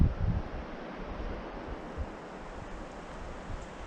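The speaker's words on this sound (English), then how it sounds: "Nice and breezy." Breeze rushing through a pine forest along a hiking trail, a steady broad whoosh with light gusts, close and continuous, with no voices.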